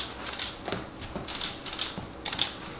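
A camera shutter firing off a burst of photos: several crisp mechanical clicks in quick, uneven succession, close and fairly quiet, with no talking.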